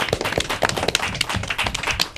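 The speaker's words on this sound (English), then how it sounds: "I like to end with a big round of applause for yourselves." A small audience of an elementary academic derby claps in a brief round of applause, dense overlapping hand claps close to the microphone with no one speaking.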